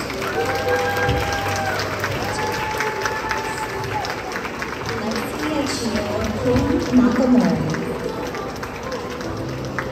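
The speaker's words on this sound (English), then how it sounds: "Let's give them a big round of applause." Festival crowd applauding queen contestants at a Hawaii cherry blossom festival, clapping and light cheering spread across an outdoor gathering, with talk and a steady background mix around it.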